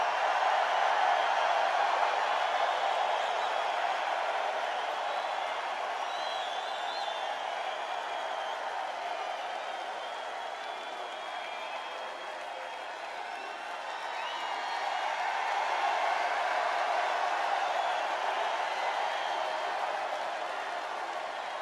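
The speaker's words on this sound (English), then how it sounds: "The people can hear the crowd." Steady, broad wash of crowd noise at an outdoor political rally in Manchester, New Hampshire, a sustained roar of cheering and applause that swells and dips slightly without clear individual voices.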